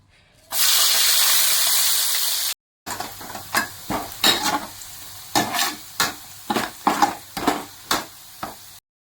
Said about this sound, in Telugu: ఆయిల్ అనేది హీట్ ఎక్కిన తర్వాత ఆనియన్స్ కట్ చేసి పెట్టుకున్నాం కదండి సన్నగా, వాటిని దీంట్లో వేసేసుకోవాలి